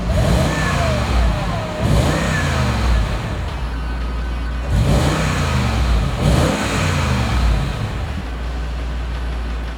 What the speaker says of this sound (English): how about I give you a little rev of it so you can hear